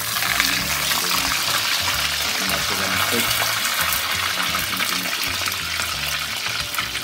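Tilapia fish frying in hot oil gives off a loud, steady, close sizzle that crackles continuously throughout, with no voices.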